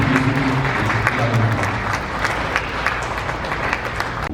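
Even, continuous clapping from the crowd at a 74th Liberation Day commemoration ceremony, holding steady for about four seconds, with a low hum of voices mixed in early on.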